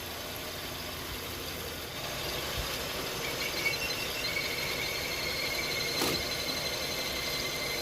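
A car engine idles steadily while a thin, high-pitched squeal from the accessory drive belt whines continuously over the low mechanical rumble.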